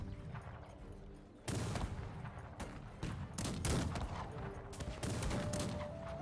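Musket volleys crack in the video game Cossacks 3 during a battle with dragoons and grenadiers, rapid overlapping shots bursting in clusters over a continuous din of gunfire.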